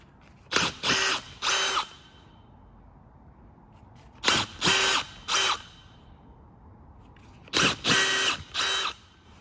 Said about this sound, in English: a normal combi impact driver drill will do the job